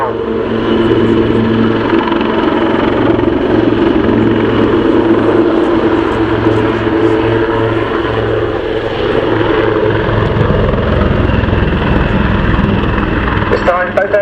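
Display aircraft flying wingover manoeuvres at the RAF Cosford Airshow, a loud sustained engine roar that swells and shifts as the planes pass, with a commentator talking over it throughout.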